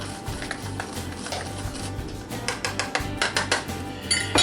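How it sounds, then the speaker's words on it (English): Whisk clinking against a bowl while stirring self-rising flour, a quick run of light metallic taps growing more rhythmic toward the end over a steady low background hum. "We're going to put our self-rising flour in here. I'm just going to give that a little whisk around."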